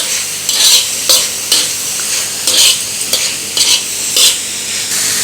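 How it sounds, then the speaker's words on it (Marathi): A spoon scrapes through green chili sauce and other sauces in a frying pan for chicken fried rice, giving rhythmic, loud stirring strokes about twice a second over a constant sizzle, with no voices. "आता हे व्यवस्थित मिक्स करून घेऊया"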